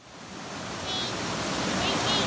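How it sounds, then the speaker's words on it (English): A waterfall beside the Desert Road pours in a broad, steady rush of white noise that grows slightly louder over the moment, heard up close. "Waterfall."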